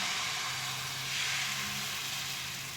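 A ladle of dosa batter hits a hot greased griddle, setting off a steady, even sizzling hiss close up that holds without a pause.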